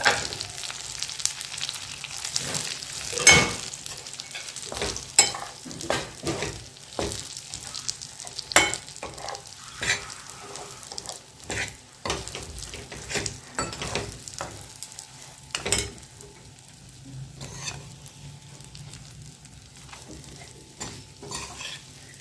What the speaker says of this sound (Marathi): तो मसाला घालायचा गॅस बारीकच ठेवायचं आणि एक मिनिट मसाला भाजून घ्यायचं